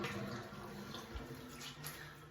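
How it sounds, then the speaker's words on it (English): Water is wrung by hand out of a large dog's soaked fur, a continuous quiet stream of running and splattering water with small drips over it. "I like to wring out some of the water first so that he's not soaking wet"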